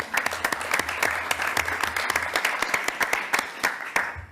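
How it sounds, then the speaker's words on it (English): A small crowd at a city council gathering claps briskly in a steady burst of applause for TriMet and Raimore Construction, with individual claps close and distinct throughout. "a quick round of applause for TriMet and Raimore Construction"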